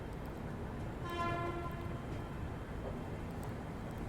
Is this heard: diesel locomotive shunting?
yes